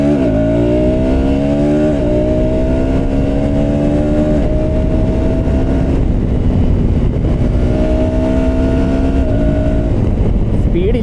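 A KTM Adventure 350 motorcycle accelerates hard from a standstill, its engine pitch climbing steadily and dropping briefly at each of several gear changes over about eleven seconds, loud and close with a continuous rumble.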